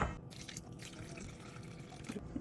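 Water pours and trickles steadily into a container, a soft continuous splashing with light drips, close by.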